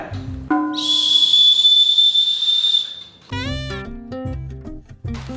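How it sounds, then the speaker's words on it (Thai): A small toy whistle from a candy snack is blown in a long, shrill, steady tone, followed by a few shorter warbling toots, all loud and close with no talk. "ที่สำคัญมันมีนกหวีดที่เป่าด้วย"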